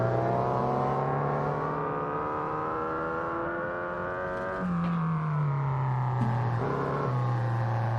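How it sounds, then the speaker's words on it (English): A small 1.6-liter race car engine in the Assetto Corsa racing game screams at high revs, its pitch climbing steadily, dropping sharply at a gear change, then climbing again, loud and close with no talk. "Got to keep the revs up. This is a really high revving,"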